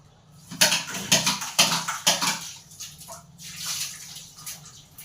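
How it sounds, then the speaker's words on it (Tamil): A plate being washed under running water in a home kitchen, with bursts of splashing and rinsing that rise and fall in several waves, close and fairly loud, with no talking. "தட்டை வாஷ் பண்ணுவோம்"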